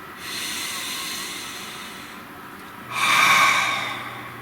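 One slow, deep breath, a long soft inhale followed by a louder, breathy exhale, heard close up in a quiet room.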